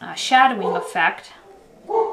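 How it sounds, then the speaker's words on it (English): A dog barks a few times in the background while a person talks over it during an indoor paper craft session with an ornament punch. "that's my dog in the background."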